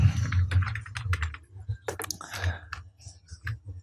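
Rapid clicks from a computer keyboard while typing code for a PHP and MySQL login page, a close, uneven patter of keystrokes with a faint voice murmuring underneath.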